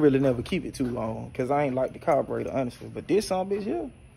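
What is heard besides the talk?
No everyday noise stands out behind the speech.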